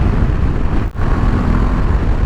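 A Moto Guzzi V85 TT motorcycle, 80 horsepower, under way: a loud, steady engine drone mixed with rushing wind, with a brief dip near the start before the roar resumes. No voices.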